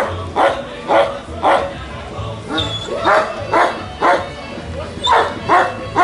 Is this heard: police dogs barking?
yes